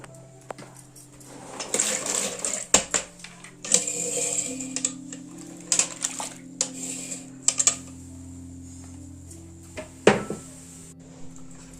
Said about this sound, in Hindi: अब इला हमला पानी में डाल के धो लेना है।